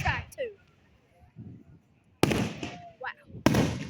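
Fireworks burst overhead at an outdoor show, with several sharp booming explosions followed by crackling. People talk and exclaim between the blasts.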